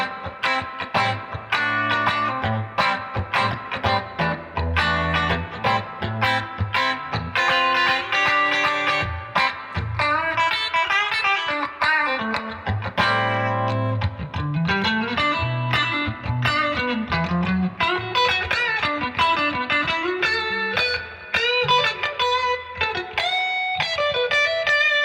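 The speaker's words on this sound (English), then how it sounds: "So with just the tone press, it sounds like this." Electric guitar through a Tone Press compressor pedal, funky plucked and strummed phrases with even, squeezed dynamics, steady and clear for the whole stretch with no talking.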